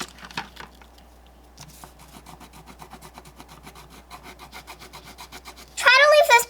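A light crayon is rubbed across paper while a bulldog picture is coloured, giving a soft, steady scratchy rasp of repeated short strokes at close range, followed by a louder burst of rustling near the end.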